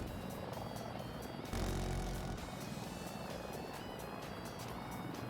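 Mi-24 Super Hind attack helicopter in a video game, a steady loud rotor and engine drone filling the clip, with a brief heavier low surge partway through and faint beeping tones above.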